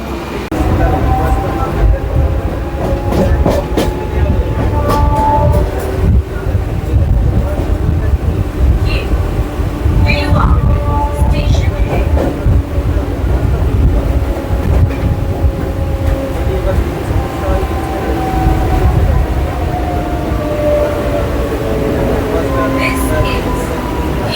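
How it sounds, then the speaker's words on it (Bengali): The Howrah–Patna Jan Shatabdi Express rolls past at a busy station with a loud, continuous rumble of wheels and carriages. Faint voices and station noise mix into the din for the whole stretch. "এটা ছিল হাওড়া পাটনা জনশতাব্দী এক্সপ্রেস।"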